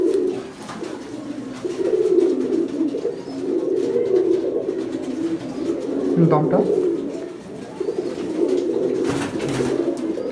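A flock of pigeons keeps up a steady low cooing chorus in a pigeon farm while someone speaks briefly over it, with a few louder nearby coos and handling noises.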